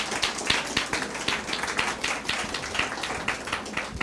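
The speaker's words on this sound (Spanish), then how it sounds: "Denle un aplauso al Señor Jesús" A church congregation claps together in a quick, steady rhythm, the even beats filling the room at moderate volume with little talk.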